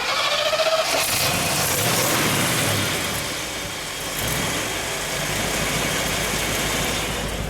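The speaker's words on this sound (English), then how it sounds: "All right, let's start her up." A 1959 Chevrolet Impala convertible engine cranks and catches, then settles into a steady, loud, close idle that runs throughout.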